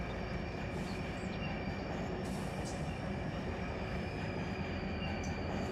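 A train in the Run 8 rail simulator game rolls slowly at about 9 mph through a switching district, a steady rumbling drone of railcars with faint wheel squeals, no voices.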